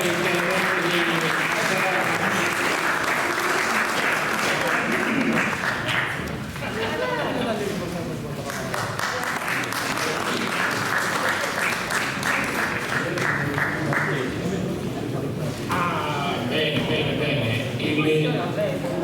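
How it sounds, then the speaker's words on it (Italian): Sustained audience applause at a Sardinian-language poetry contest in Ossi, dense even clapping that continues loudly for almost twenty seconds, briefly easing and resuming, with voices mixed into it. "Riparte l'applauso"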